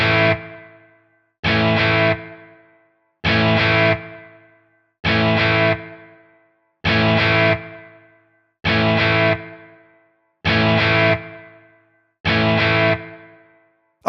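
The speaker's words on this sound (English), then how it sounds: "we reamp a track through the software and reamp a track through the pedal" An electric guitar reamped through a Tonex amp modeler plays eight identical distorted chords at an even pace. Each chord rings out and decays before stopping abruptly, leaving short gaps, with no voices.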